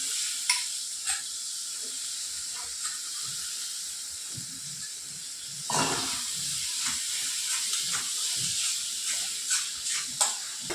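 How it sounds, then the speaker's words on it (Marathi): Green peas, onion and green chilli cook in a pan with a soft continuous sizzle and hiss, broken by occasional stirring clinks and scrapes. "तर 2 मिनिटं याला अशीच वाफ देऊन घेऊ, म्हणजे छान मस्त जे वाटाणे ते छान शिजतील."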